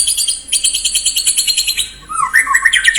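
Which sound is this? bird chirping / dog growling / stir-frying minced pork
bird chirping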